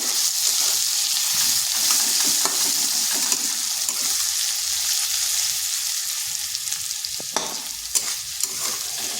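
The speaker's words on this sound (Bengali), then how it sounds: "এইভাবে ঢাকাটা তুলে মাঝে মধ্যে নাড়তে হবে, আলুটা একটু ভাজা ভাজা হয়ে যাবে।" Potatoes frying in a covered pan hiss in a steady, even sizzle, with occasional soft scrapes and clicks as the lid is lifted and the potatoes are stirred, close up, no talking.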